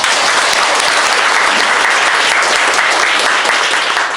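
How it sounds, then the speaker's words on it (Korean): Sustained, loud audience applause at a book concert for a novelist's talk event, dense clapping filling the hall steadily for several seconds with no talk over it. "귀한 말씀 나눠주신 교현님께 다시 한번 큰 박수 부탁드리도록 하겠습니다."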